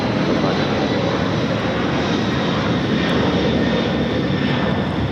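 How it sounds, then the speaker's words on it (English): A Cathay Pacific Cargo Boeing 747-400 freighter takes off at Los Angeles airport, a loud, steady roar of jet engines with a broad rushing drone that holds for several seconds from a middle distance. "This is Cathay Pacific Cargo 2080 taking off to Dallas Fort Worth on the 747-400 freighter."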